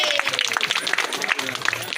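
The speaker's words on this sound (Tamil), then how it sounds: "அவங்க பெரிய கைத்தட்டு" Applause at a school annual day celebration for a student who won first prize in a regional Tamil singing contest: dense, steady clapping from a crowd, loud and continuous with sharp scattered claps over the two seconds.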